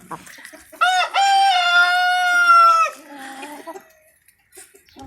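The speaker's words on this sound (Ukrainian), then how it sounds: "Біля півника є три курочки." A rooster kept with three hens lets out one loud, close, drawn-out crow, followed by softer clucking and faint farmyard sounds, with no talking over it.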